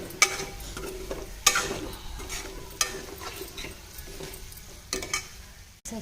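Onion masala and eggs are stirred in a pan, with a soft, low fry under intermittent spoon scrapes and a few sharper clinks against the pan, moderately close and without talk.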